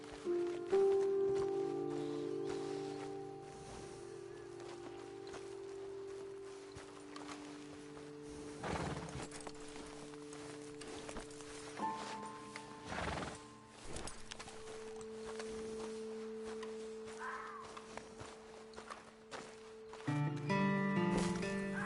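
Horses in the Red Dead Redemption 2 video game: hooves clip-clop at a slow walk while a horse gives a couple of snorting whinnies, set against a quiet outdoor ambience with occasional tonal game sounds and no talk.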